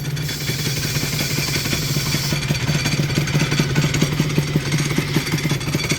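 Honda NSR250 MC21 two-stroke motorcycle engine running close by, a steady buzzing idle with rapid ringing clatter, the note rising slightly as it is blipped.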